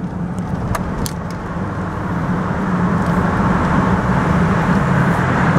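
A car drives along a road heading toward I-85, its steady engine and tire rumble close and continuous, growing slightly louder partway through, with no talk.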